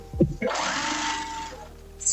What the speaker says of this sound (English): I'm starting with a back stitch to secure it because I don't want my dress falling apart